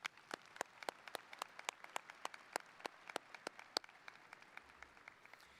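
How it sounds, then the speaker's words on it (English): Sparse applause from a graduation ceremony audience, a handful of distinct claps in steady rhythm, faint and distant, with no talk over it. "Can you give them a round of applause"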